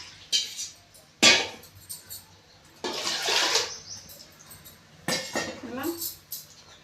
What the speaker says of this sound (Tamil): பருப்பை தண்ணி கொஞ்சம் கூட சேர்த்துக்குவோம்